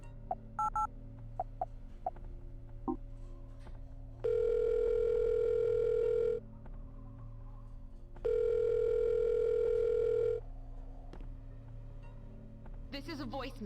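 Phone call tones in the Silent Hill Shattered Memories video game: two long, steady ringback tones, each lasting about two seconds, separated by a pause over a quiet background.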